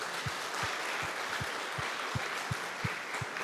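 Parents at a church Parents Day service applaud their children, a broad, steady wash of clapping from a crowd with low thumps recurring at a regular pulse throughout.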